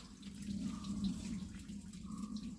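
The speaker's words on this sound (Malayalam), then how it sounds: "ഇതിൻ്റെ ഇടയ്ക്കൂടെ ഒരു വെള്ളം പോകുന്നുണ്ട്" Water flowing through a small channel on a farm makes a soft, steady gurgle that stays faint and continuous the whole time, with no voices.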